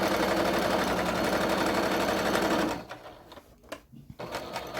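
A sewing machine stitches an apron hem an eighth of an inch from the edge, a loud, fast, steady mechanical whir for nearly three seconds that stops abruptly, followed by scattered handling clicks.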